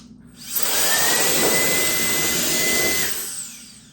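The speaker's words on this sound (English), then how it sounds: "So you're going to press and hold to activate the fan." A handheld Euki X3 TurboFan electric blower spins up and runs with a loud, steady high-pitched whine for a few seconds before winding down, blowing at a can of compressed air.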